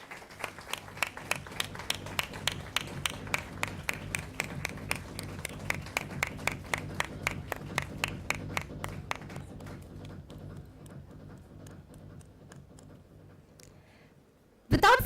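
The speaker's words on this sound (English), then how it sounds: "let's give a huge round of applause" Sparse, evenly spaced claps ring out at a formal HR session, steady and somewhat distant for about ten seconds before thinning out, with a loud noise at the very end.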